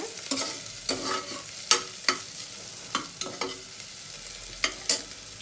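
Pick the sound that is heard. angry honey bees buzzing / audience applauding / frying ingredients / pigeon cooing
frying ingredients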